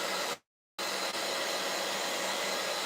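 A heat gun blowing steadily over freshly painted furniture with DIY paint, a loud continuous broadband hiss that cuts out briefly near the start and then resumes.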